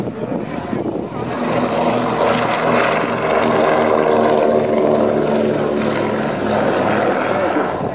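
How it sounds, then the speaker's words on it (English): A Consolidated PBY-5A Catalina flying boat passes during an air show display at RAF Fairford. Its piston propeller engines give a loud, sustained droning roar that builds and holds for several seconds, with a rich harmonic growl. "the Consolidated PBY-5A Catalina"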